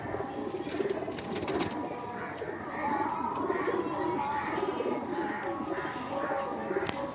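Rampuri pigeons cooing nearby, a run of low, throaty rolling coos over faint background noise, with a brief rustle near the start.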